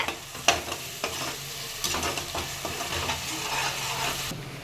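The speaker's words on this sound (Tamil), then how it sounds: "பச்சை மிளகா நல்லா வதக்கிக்கலாம்" Green chillies sizzle and fry steadily in a pan with occasional stirring scrapes and clinks, continuous and moderately loud, no voices.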